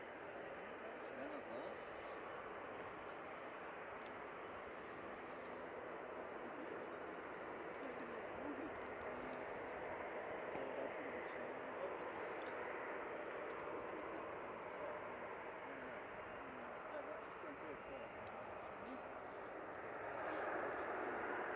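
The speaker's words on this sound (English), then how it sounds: "And this is the Easyjet. Coming in from Etihad." An easyJet airliner comes in to land at Manchester Airport, a faint, distant, steady engine roar that holds throughout and rises a little near the end.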